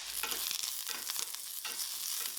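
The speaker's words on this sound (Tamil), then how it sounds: "இது லைட்டாக வறுபட்டதும் இதில் கொஞ்சம் கருவேப்பிலை போட்டுடுறேன்." Curry leaves and garlic frying in oil in a pan for a masala meat curry: a dense, crackling sizzle with sharp pops and spatters throughout, close and loud, with no talk.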